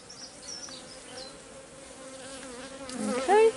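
Honey bees buzz at a hive in a close, steady drone, with a sharper brief buzz near the end and no speech.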